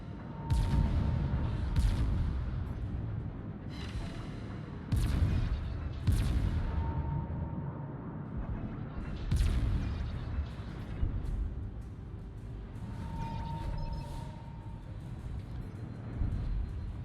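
Naval gunfire from the battleship Vermont in a warship video game: repeated heavy distant booms spaced a few seconds apart over a steady low rumble, with no talking.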